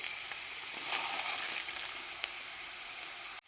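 Chana dal frying in hot oil for puliyogare, a steady bright sizzle throughout with a few small pops, close and alone until it cuts off abruptly at the end.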